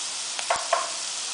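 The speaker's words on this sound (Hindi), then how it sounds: "इनको हाई फ्लेम पर लगभग 1 मिनट के लिए सॉटे करेंगे।" Sliced capsicum in three colours and carrot sautéing in a hot pan over high flame, a steady broadband sizzle with a couple of brief stir scrapes standing out near the middle.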